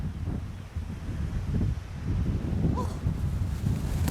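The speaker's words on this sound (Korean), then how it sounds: "몸을 못 가눌 정도로 지금 바람이 너무 많이 불어서" Strong wind buffeting a microphone on an exposed Australian coast, a steady low roar with gusts swelling louder toward the end, alone with no talk.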